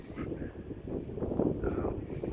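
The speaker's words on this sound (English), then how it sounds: "Sorry, it's pretty windy." Low rumbling wind buffets the microphone in uneven gusts at a park, a muffled, boomy roar that swells and fades over a couple of seconds.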